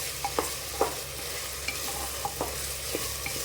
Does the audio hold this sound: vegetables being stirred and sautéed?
yes